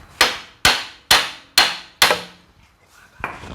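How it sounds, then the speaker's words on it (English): Five sharp metallic hammer blows on a Honda CR-V front CV axle, evenly spaced and ringing briefly, followed by quieter clanks and shuffling. "we gotta hit this axle right here with our hammer"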